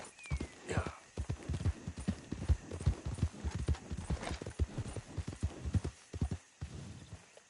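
A horse's hooves gallop in a fast, steady clip-clop rhythm across the ground in Red Dead Redemption 2, close and continuous for several seconds with faint background ambience.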